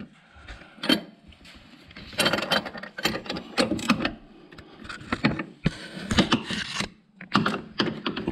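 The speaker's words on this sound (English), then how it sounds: "I use a ratchet and an extension so that I can get into the little bolt" A ratchet on an extension turns a small sway bar link bolt on a C6 Corvette, heard up close as uneven bursts of clicking and metallic rattling separated by brief pauses.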